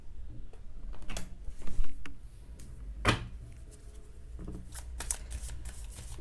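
Tarot cards shuffled by hand close up, a soft, irregular run of riffling and slapping with one sharper snap near the middle, quiet and with no talking over it.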